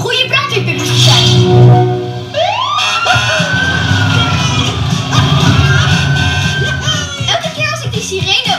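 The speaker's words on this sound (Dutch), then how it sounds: "Elke keer als ik die sirene woe, woe hoor doen" A cartoon fire engine siren wails with rising and falling sweeps during a firefighting-puppy scene, sounding fairly loud amid busy background sounds and voices.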